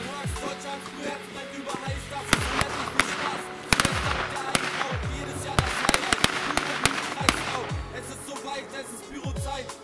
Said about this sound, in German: So, jetzt die Knallkette 16.